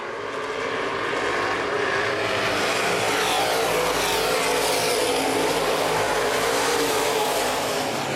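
Open wheel modified race cars roar around the Baer Field Speedway track in a continuous, loud wash of engine noise that holds steady throughout, with no voices.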